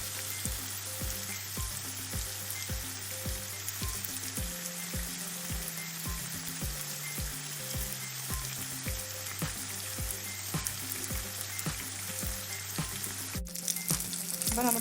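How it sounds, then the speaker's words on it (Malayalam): Navara fish frying in oil in a pan, a dense continuous sizzle with faint scattered pops running steadily throughout, no voices. "നന്നായിട്ട് പാകമാകുമ്പോൾ ഒരു ശബ്ദം ഇങ്ങനെ കേൾക്കാൻ പറ്റും, ടപ്പ് ടപ്പ് എന്നൊരു ശബ്ദം. അത് ഈ പൊട്ടുന്ന ഒരു സൗണ്ട്."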